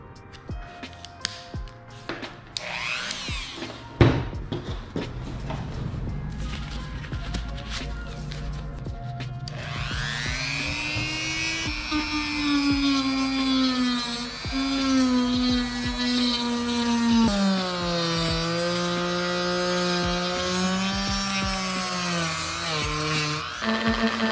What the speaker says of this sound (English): you can't go wrong with just using a rotary tool, especially when you want to cut out specific shapes and lines